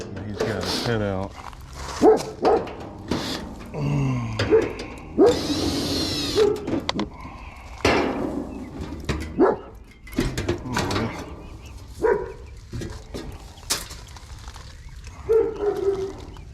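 Dogs barking, yipping and whimpering behind a door while a technician works nearby, the bursts sharp and close, mixed in with ongoing talk.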